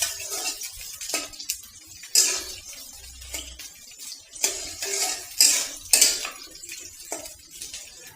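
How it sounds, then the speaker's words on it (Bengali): Chopped onions being stirred in oil in a pan while cooking goat meat, with repeated scraping clinks of a utensil against metal in irregular bursts, close and moderately loud, no talking. "ফার্স্টে করে তেল দিয়ে দিচ্ছি, তারপরে পেঁয়াজ কুচি। পেঁয়াজটাকে একটু নাড়াচাড়া করে"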